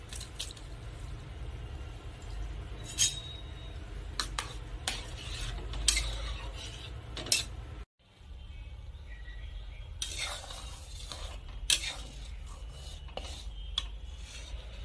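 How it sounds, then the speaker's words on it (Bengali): Pond snail meat goes into a pot of hot water on the stove, with scattered clinks, scrapes and stirring knocks of a utensil against the pot over a low steady background, close and moderately loud. "জল গরম হয়ে গেছে, এখন আমি গেঁড়ি মাংস দিয়ে দিচ্ছি।"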